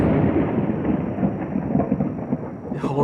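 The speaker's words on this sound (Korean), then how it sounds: "이런 정말 천둥 소리를 들으면서도" Loud thunder rumbling through a rainstorm, a continuous deep roll that swells and eases across the whole stretch, with faint rain hiss behind it.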